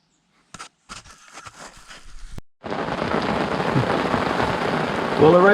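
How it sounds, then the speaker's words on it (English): Heavy rain during a perch fishing session, first scattered drops on a surface, then a sudden loud, dense, steady downpour close by that swells near the end. "Well, the rain has come."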